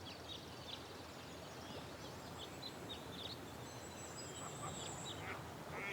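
A lone female duck calls faintly in a short series of honking quacks over steady outdoor background noise near a boat on the water.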